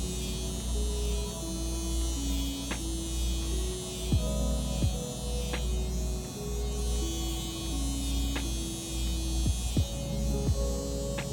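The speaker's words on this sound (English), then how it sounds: "this trimmer is actually awesome for cutting the top of my hair because it's so lightweight" A lightweight cordless hair trimmer buzzes steadily close by while cutting the hair on top of a head, a constant electric hum with small shifts in pitch and a few soft clicks as strokes change.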